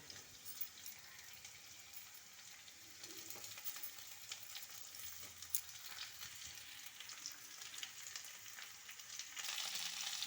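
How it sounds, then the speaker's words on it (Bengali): Carrot pieces fry in a pan before potatoes go in, with a faint, continuous sizzle and occasional stirring scrapes throughout, no voices. "গাজরটা একটু ভাজা ভাজা করে নেব এই যে এই দেখুন গাজরটাও আমার ভাজা হয়ে গিয়েছে"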